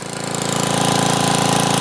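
A Troy-Bilt rototiller's small engine runs at full throttle near 3,300 RPM, a loud, close, steady rapid hammering drone with a tight chugging pulse and no voices.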